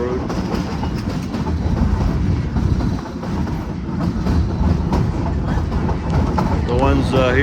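A narrow gauge steam train on the Cumbres and Toltec Scenic Railroad rolls past, with a steady rumble and clickety-clack of wheels on rails, loud and close, while someone talks over it and a brief whistle-like squeal rises at the end.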